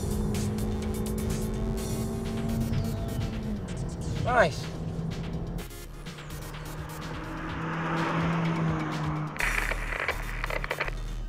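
A 2015 Hyundai i20 Sport's engine drones and revs continuously as it drives hard around a track, pitch rising and falling through gear changes, with a brief spoken remark.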